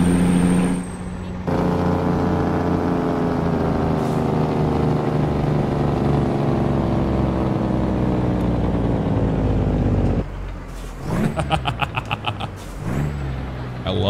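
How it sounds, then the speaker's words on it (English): A semi truck pulling Rocky Mountain doubles labors downhill on engine brake, a loud sustained low rumble and drone that slowly falls in pitch before cutting out, followed by brief hissing pulses, heard from inside the cab. "we were definitely going to engine brake down this hill"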